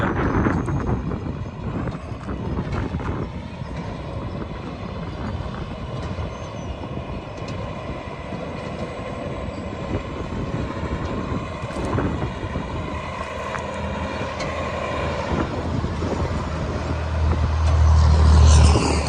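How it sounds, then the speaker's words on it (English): A 2007 Mack Granite CTP713 quad-axle truck pulling a pump trailer drives a loop around a parking lot, its heavy diesel engine rumbling steadily and growing louder as it comes back close at the end, with no talking. "2007 Mack CTP713 quad axle truck with the pump trailer"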